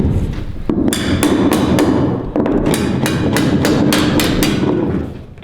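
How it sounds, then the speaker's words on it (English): Hammer blows drive nail plates onto wood framing during a house's plumbing rough-in, a steady run of sharp, loud strikes in quick clusters, close by with no talking. "Putting up a couple nail plates."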